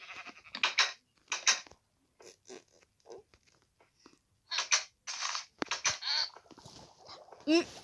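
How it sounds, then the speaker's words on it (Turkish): Bleating sheep sounds from a video game come in several short bursts with gaps between, mixed with other brief noises and crunches, fairly close and moderately loud. "bir tane koyun çıkmış"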